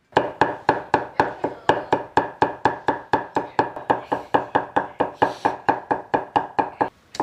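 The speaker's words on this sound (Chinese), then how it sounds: "再来上一点姜蒜，给它配一下之后剁碎" A knife minces ginger and garlic on a cutting board in a home kitchen, striking in a steady, quick rhythm of about thirty close, crisp chops with a brief pause near the end.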